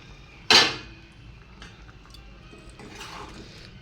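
A metal lid set onto a cooking pot of spiced curry after water is added, one sharp loud clank followed by faint kitchen clatter and a soft rattle.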